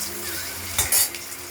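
Stuffed pointed gourd fries in hot oil in a pan with a steady close sizzle, then a brief clatter of a utensil against the pan near the middle.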